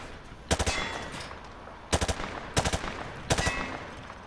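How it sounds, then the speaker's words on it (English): Four short bursts of automatic machine gun fire ring out at targets in Modern Warfare 2 Remastered, each burst a rapid rattle of a few shots, loud and close, with brief pauses between them. "He sprayed bullets all over the damn place."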